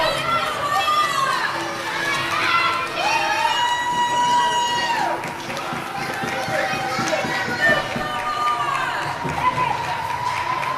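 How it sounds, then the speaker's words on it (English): A cheering section of youth supporters at a 10U hockey district tournament game yells and shouts in high, excited voices, a loud continuous crowd din with children's voices prominent. "A little cheering section here."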